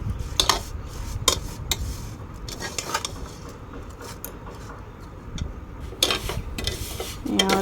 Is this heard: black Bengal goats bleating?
no